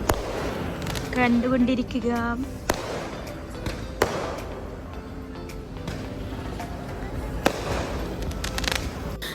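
Fireworks burst at a Vishu celebration with loud, sharp bangs and crackles scattered through the clip, while people talk close by.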